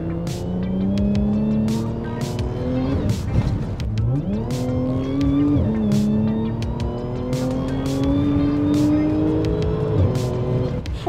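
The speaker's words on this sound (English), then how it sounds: "It's amazing how it just keeps building boost and it pulls strong all the way to red line." A modified Audi turbo engine with a louder exhaust pulls hard through repeated accelerations, its pitch climbing steadily before dropping at each gear change, loud and close, with faint voices in the background.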